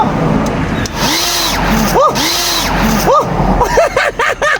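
A battery-powered turbo air blower whirs loudly in short bursts, its motor pitch swooping up and down as it starts and stops, with someone talking over it.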